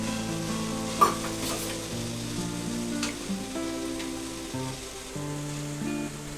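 Fried bitter gourd goes into a tamarind dal that sizzles and bubbles steadily in a pan, with a single soft clink of a utensil near the start and a constant close frying hiss throughout.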